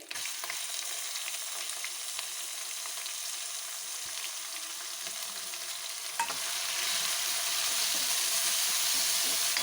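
Chopped onions sizzle and fry steadily in a pan with ginger and garlic, a continuous hiss that swells louder near the end, with no voices.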